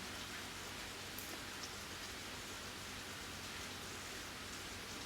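Heavy rain falls as a constant, even hiss of drops on surfaces. The downpour stays uniform and fairly soft, with no voices or other sounds rising above it.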